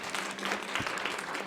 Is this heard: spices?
no